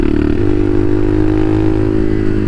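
A Bashan Motomax 250 street-legal dirt bike on the road: a loud, steady single-cylinder engine drone with a slight pitch shift near the start, holding even throughout with no talk.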